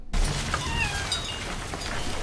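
A cat meows once, sharp and close, in the opening of the horror film IT, followed by a brief drawn-out wail over a low background rumble.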